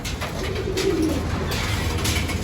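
Pigeons at a loft being released to fly, with soft cooing and wing movement against steady outdoor background noise, no talking.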